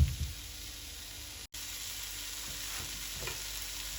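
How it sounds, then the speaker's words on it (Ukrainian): Steady sizzling of minced meat frying in a pan, a continuous crackling hiss with occasional stirring scrapes and a brief dropout midway. "фарш смажиться"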